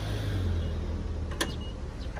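A car's power trunk closes after its kick sensor is triggered: a steady electric motor hum runs under the scene, broken by a short sharp latch click near the end, close by and without talk.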